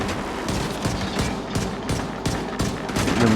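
Rapid automatic gunfire in The Division 2 comes in close, loud bursts with short gaps between them, and no voices are heard.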